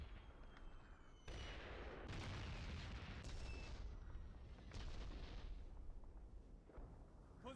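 Artillery fire in the World War II shooter Call of Duty: United Offensive, heard as a run of heavy explosive bursts and rumbling booms that swell and fade across several seconds, fairly distant and without talk.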